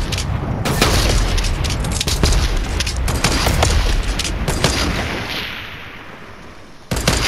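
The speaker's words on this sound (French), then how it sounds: "Tu veux qu'on lui cale des balles?" Fortnite gunfire: rapid bursts of loud shots and booming blasts, densely packed for several seconds, then fading into a quieter tail before one more sharp shot near the end.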